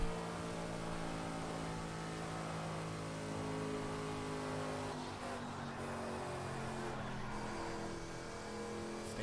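A car engine revs and pulls steadily on a race track while the driver accelerates in 4th gear back up to speed, a continuous droning tone with no talk over it.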